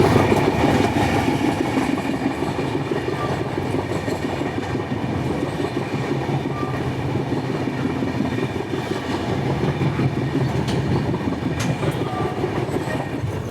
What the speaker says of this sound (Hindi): अभी हमारी ट्रेन पहुंचने जा रही है बीना जंक्शन